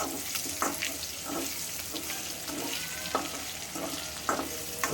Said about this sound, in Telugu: అల్లం వేసుకుని మంచిగా కలుపుకున్నాను